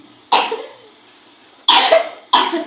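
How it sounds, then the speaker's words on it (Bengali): A young child coughs three times, close and loud, each cough a short rough burst separated by pauses, the first followed by a soft breathy tail. "তোমার কাশি হচ্ছে কেন?"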